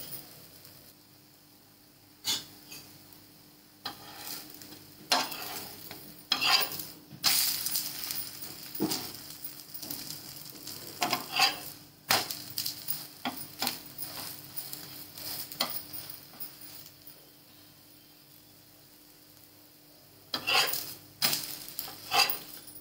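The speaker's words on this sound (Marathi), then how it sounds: "पलटी करून घेते. सगळ्या साईडने असं खरपूस भाजून घ्यायचं" Wheat dhirde crisp on a hot pan while being flipped, with intermittent spatula scrapes and clinks against the pan over a faint sizzle, separated by quieter gaps.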